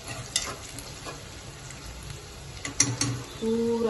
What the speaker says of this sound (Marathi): तळून घेते